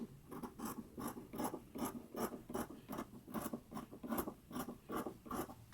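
Scissors trim the yoke seam of a McCall's 8001 sewn top, making a regular series of crisp, close snips about three per second, with no voices.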